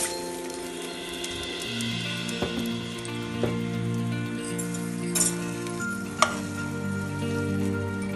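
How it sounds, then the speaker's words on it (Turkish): Washed, drained rice toasting in butter in a pot for pilaf, with a low crackling sizzle and a few sharp clicks and scrapes of stirring over a steady background hum. "Pirinçlerim çok güzel kavruldular."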